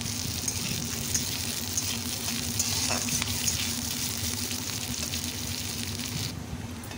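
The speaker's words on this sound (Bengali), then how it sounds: "যতক্ষণ না পেঁয়াজের কালারটা চেঞ্জ হচ্ছে ততক্ষণ আমি এগুলোকে একটু ভেজে নেব।" Chopped onions frying in a pan with a steady, close sizzle that holds evenly the whole way through, with no talking.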